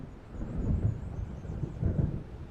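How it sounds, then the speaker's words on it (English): Deep rolling thunder from an approaching storm over open water in the video game Alan Wake, two swelling rumbles over a constant low roar, heard alone and fairly loud. "It seems there's a storm coming."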